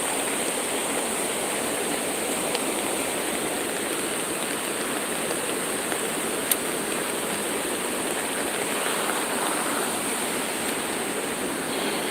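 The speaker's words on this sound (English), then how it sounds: "Look at that waterfall. That waterfall is beautiful, ain't it?" Waterfall at a historic site, feeding part of the local power supply; a steady, dense roar of falling water fills the whole clip, loud and continuous with no talk.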